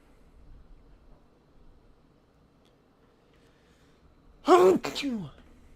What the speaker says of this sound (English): Sorry if I just sneezed right in the mic.